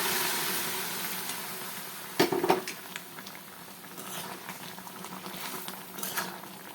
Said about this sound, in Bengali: তো দেখো এবার আমি প্রেসারে থাকা এটা ঢেলে দেবো